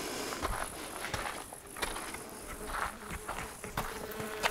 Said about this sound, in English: I'm hearing the bees